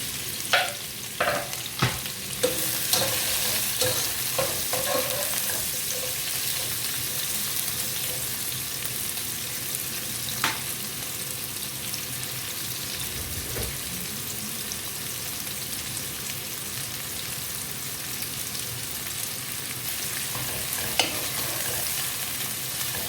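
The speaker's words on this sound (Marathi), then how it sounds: "लाल होईपर्यंत कांदा व्यवस्थित भाजून घ्यायचा आहे." Two medium onions, sliced lengthwise, fry in a pan for egg biryani, giving a steady close sizzle broken by scraping clicks as a utensil stirs them; no one speaks.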